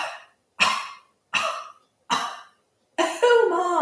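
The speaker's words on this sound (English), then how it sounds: "when you cough outward, the belly draws in" Four sharp, forceful coughs come in an even rhythm during a yoga breathing exercise, each short and close, followed by a longer breathy exhalation with a faint voiced sound.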